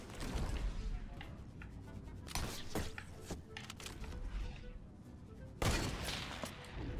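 Gunfire in Fortnite during trick-shot attempts, bursts of sharp shots and crackling impacts over dense game noise, with two louder blasts standing out, moderately loud and without talk.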